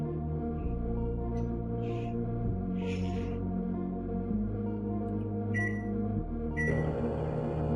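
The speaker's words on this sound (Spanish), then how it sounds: "ahí parece ser el magnetrón, algo que está sonando con un fuerte ruido" An LG microwave oven running with a faulty, loud magnetron, a steady droning hum with strong tonal layers, several brief higher whines and clicks on top, and a shift to a harsher buzz near the end.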